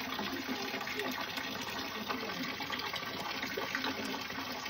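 Spring water pours steadily out of rock at a hidden spot in Meghalaya, a continuous close rushing and splashing flow with no breaks.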